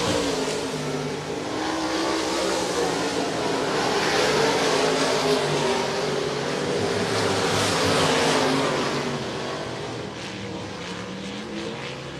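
Open wheel modified race cars racing at Volusia Speedway Park, a loud sustained roar of several engines swelling and fading as cars pass, with a dense broadband growl and no voices.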